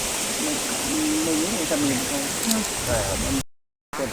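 Stream and waterfall along a rubber-raft trip toward Thi Lo Su, a steady rushing water roar filling the background while someone talks over it, briefly cut to silence near the end.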